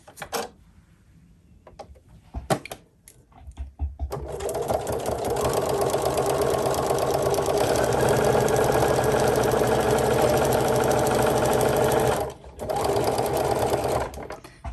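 A sewing machine runs steadily while stitching a pleat along a dotted line on a quilt block, a loud continuous whir lasting about eight seconds after a few handling clicks, pausing briefly near the end before resuming.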